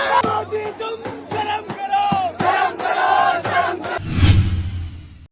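A large protest crowd at Jantar Mantar in Delhi chants and shouts together in loud, rhythmic bursts, followed by a sudden swell of louder, closer yelling near the end.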